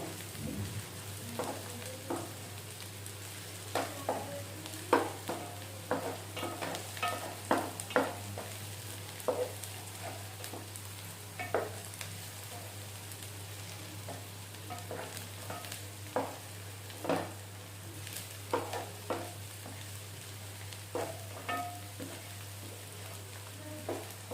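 Ingredients for Andhra-style mango fish curry fry in a pan until brown, a steady soft sizzle broken by frequent scraping stirs and small crackles, close and moderately quiet over a low constant hum.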